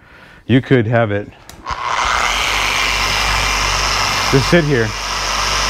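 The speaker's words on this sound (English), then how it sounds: "So it's a very safe polisher." An Adams dual-action car paint polisher, used on a Firebird's paint, hums with a steady motor whir after a person speaks briefly, the drone carrying on under a short later remark.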